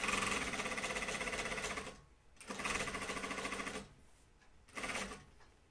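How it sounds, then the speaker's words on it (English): A sewing machine whirs steadily while winding a bobbin, running in a couple of longer bursts and a short one, with brief pauses between them. "It's winding a bobbin right now, so it's a little louder."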